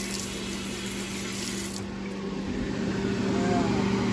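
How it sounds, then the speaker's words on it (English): Tap water runs into a kitchen sink during hand washing while cooking an omelette, a steady hiss and splash that swells slightly toward the end, with talking over it. "I'll wash my hands."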